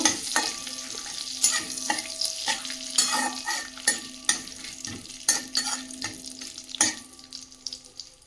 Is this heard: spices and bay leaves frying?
yes